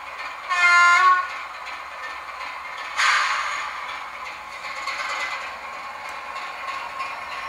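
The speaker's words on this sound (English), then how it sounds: "I can pull those wagons back and forth on it, and it's all good" A model train rolls wagons along a layout track, giving a soft, close mechanical running hum with two brief louder bursts of whistle-like tone near the start and a few faint clicks.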